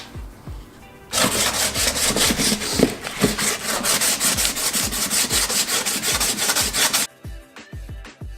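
A sander runs on body filler over a crack in a Honda S2000 car bumper, giving a loud, close, rapid rhythmic scraping for about six seconds between quieter handling sounds.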